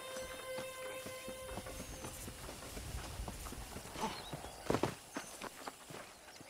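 Horse hooves clip-clopping at a walking pace in the video game Red Dead Redemption, fairly close and soft, with a few sharper knocks toward the end.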